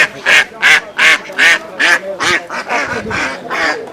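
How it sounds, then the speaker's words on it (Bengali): Domestic ducks at a rural poultry market quack loudly and close in a rhythmic series of about ten harsh calls, tapering into overlapping softer quacks. "এখানে দেখতে পাচ্ছেন কিছু পাতি হাঁস"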